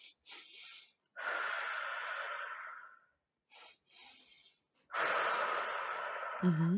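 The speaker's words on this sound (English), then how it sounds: "then I moved into more like conscious connected breathing" A person doing conscious connected breathing, taking slow, audible breaths in and out, with long airy inhales and exhales separated by short pauses, close and fairly quiet.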